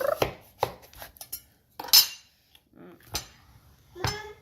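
Sharp knife chops cut through a squash on a board while preparing hidden-veggie applesauce, several distinct close thuds spaced irregularly with brief quiet gaps between them.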